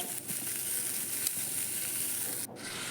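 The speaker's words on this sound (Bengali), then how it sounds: "আমি ফুলকপি ভাজা বসিয়ে দিয়েছি" Cauliflower pieces fry in a pan with a steady, close sizzling hiss that runs without a break and has no talking over it.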